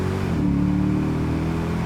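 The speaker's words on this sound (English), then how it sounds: "So that's like the real exhaust note there." The quad exhaust of a Lexus IS-F V8 drones deep and steady while driving, a close, continuous rumble with a slight rise in pitch.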